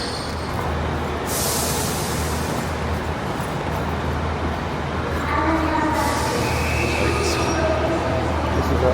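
A Settle–Carlisle line train rumbles steadily nearby at a station platform with a low continuous drone and some hissing bursts, as if arriving, with faint background voices.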